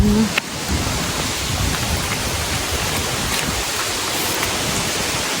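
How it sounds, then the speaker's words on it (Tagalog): Steady, dense rain hissing down, a continuous broadband wash with no let-up and a brief soft knock near the start. "Kala ko hindi pa uulan ay umulan na."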